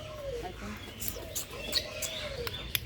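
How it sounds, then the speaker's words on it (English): Many birds calling in a large aviary at Lake View Park, Islamabad, with pigeon-like coos and scattered chirps mixed into a busy outdoor crowd murmur, faint whistles rising briefly over constant background noise. "there are many birds"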